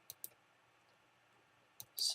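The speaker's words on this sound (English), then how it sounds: "I'm just clicking every once in a while when it's on the right edge" A few sharp computer mouse clicks, spaced irregularly, with a short pause in between and a louder rustling burst near the end, quiet and close.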